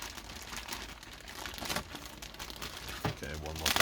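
A plastic bag from a model car kit crinkles and rustles up close in bursts, with a voice talking quietly underneath.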